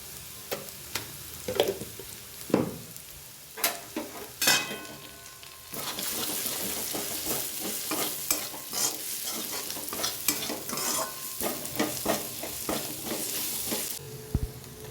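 Chopped onions sizzle in a pan while a spatula stirs them, making repeated scraping and clattering strokes over a continuous close frying hiss.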